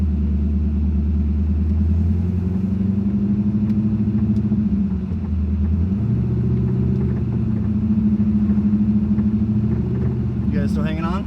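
An old barn-find Corvette that sat for a decade, driving with a steady low engine rumble and shifting drone heard from inside the car, with people talking over it.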